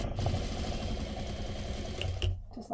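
A sewing machine runs a quarter-inch curved seam through cotton fabric at a 2.5 stitch length, a close, steady rapid whirring hum lasting a few seconds before it slows at the end.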